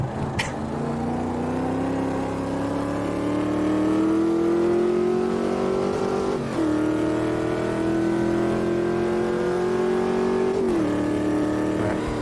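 Big V8 race car engine in Automobilista 2, revving upward in long steady pulls through the gears, two clear upshifts where the pitch drops before climbing again, loud and continuous, no talking.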